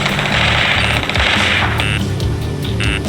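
Rapid gunfire in a modern ground firefight from Ace Combat 7, loud and continuous bursts with sharp cracks layered over a dense battle din, no voices.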